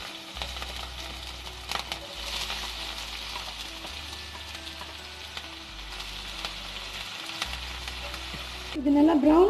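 Onion and green chilies frying in hot oil in a pan make a dense, steady sizzle with occasional stirring scrapes, close and constant, ending in a brief louder clatter.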